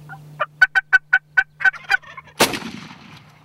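A wild turkey gobbles at decoys during a Texas hunt, a rapid run of about ten close, loud gobbling notes followed by a sharp blast-like burst and fading rumble.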